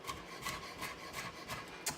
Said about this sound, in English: Kind of like a sawing motion and chopping these real fine.